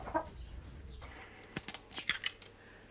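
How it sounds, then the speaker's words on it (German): Farm chickens clucking softly at a rural homestead in Nottwil, Lucerne, a few faint scattered clucks and bird calls against quiet background noise. "Die Hühner haben sie Anita besonders angetan"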